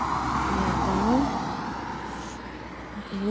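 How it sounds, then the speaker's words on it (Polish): Cars drive past on a road, a continuous close engine hum with slight rises and falls as the vehicles go by. "Musimy poczekać, bo tu autka. Autka jadą."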